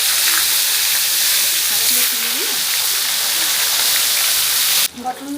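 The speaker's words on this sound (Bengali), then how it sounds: "ভেজে হালকা করে একটু নেবো" Ingredients for pachon fry lightly in mustard oil in a wok, giving a loud, continuous close sizzle that shifts abruptly near the end.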